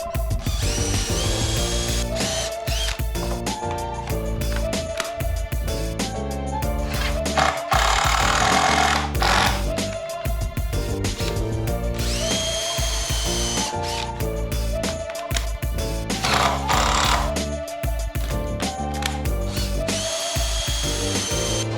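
A power drill drives screws into a wooden board in a series of loud, close whirring bursts that rise and fall as each screw bites and seats. Brief pauses between screws fill with ratcheting and handling noise.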